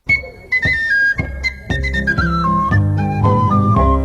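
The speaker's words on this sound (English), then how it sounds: "Great tin whistle playing too." Tin whistle carrying a lively melody on a recorded Irish folk song, bright ornamented notes over strummed accompaniment, loud and upfront with no singing.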